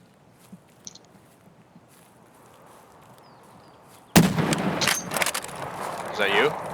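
A single sharp, loud crack from an M700 bolt-action sniper rifle in Escape From Tarkov lands a headshot after several seconds of quiet outdoor ambience, followed by a rumbling, rustling tail.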